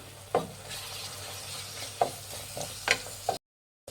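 Chilli chicken with soy sauce is stirred and fried in a pan: a low, steady sizzle with four sharp scraping strokes of the spoon, then a sudden cut to silence near the end.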